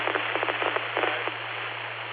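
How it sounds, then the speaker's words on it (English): Rainwater drips off a front porch roof after overnight rain, heard over a narrow, hissy amateur radio repeater link: a quick scatter of soft ticking drops that thins out into steady static. "Almost stopped dripping off the roof in front of me."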